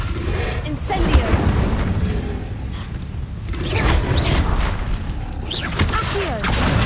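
Incendio fire spell cast in a Harry Potter video game: repeated rushing, booming bursts with roaring flame-like whooshes, layered with other game effects and a voice.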